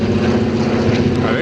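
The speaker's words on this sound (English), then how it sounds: "It was our plane." A propeller airplane drones loudly and steadily, flying close overhead somewhere in Alaska, its engine a constant, dense rumble throughout with no break.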